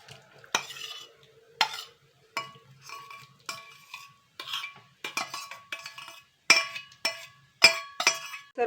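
A utensil stirs dry fruit soaked in orange juice into plum cake batter in a bowl, giving close, soft scraping strokes and bright clinks against the bowl in a steady, repeating rhythm.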